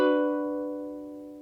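A single strummed ukulele chord rings out close and clear, then fades smoothly over about a second and a half, with no voices.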